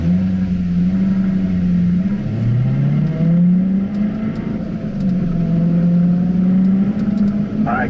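Car accelerating on a driving-school racetrack, engine pitch climbing through the gears in a steady loud drone with rising and falling revs, heard from inside the cabin.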